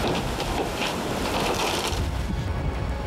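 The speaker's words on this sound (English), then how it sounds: "the yacht is smashed into oblivion against the rocks" A yacht being smashed against shoreline rocks in heavy surf, heard as a loud, continuous roar of crashing water and grinding impacts with no clear pauses.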